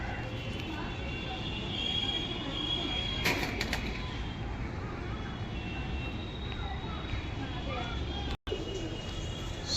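Pigeons for sale, including a red-eyed, closed-tailed bird, coo softly and repeatedly amid a continuous bed of cooing and rustling from many birds nearby, with a brief clatter midway and faint indistinct voices in the background.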